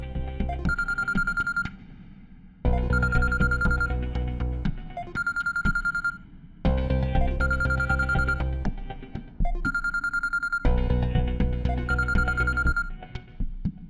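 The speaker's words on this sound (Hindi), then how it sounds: "तू सोनू को फोन कर" A phone rings in a repeating electronic ringtone, loud and close, playing in several bursts separated by short pauses.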